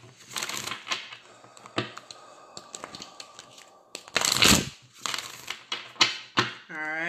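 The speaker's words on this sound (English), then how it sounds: "Let me shuffle these cards." A deck of tarot cards being shuffled by hand in several bursts of riffling and flicking, with someone talking over and between the shuffles.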